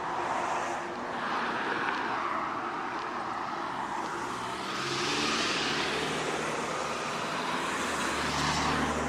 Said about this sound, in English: I'm going to go to the middle of this traffic intersection